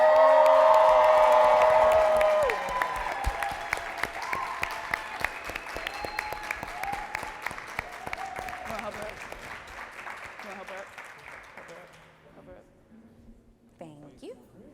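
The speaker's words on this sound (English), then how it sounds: "let's give Donni Wiggins a huge round of applause as she comes to the stage" Loud applause and cheering from a live audience as a guest speaker comes to the stage, dense clapping with whoops that starts strong and gradually thins and fades over about twelve seconds.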